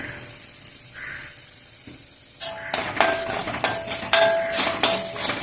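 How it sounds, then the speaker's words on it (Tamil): Mustard seeds, urad dal, chana dal and dried red chillies crackle and sizzle in hot oil, starting quietly and then bursting into dense, loud popping with an occasional clink of a utensil. "அதில் கடுகு, உளுத்தம்பருப்பு, கடலைப்பருப்பு போட்டுட்டு மிளகா வெத்தல் போடுறோம்"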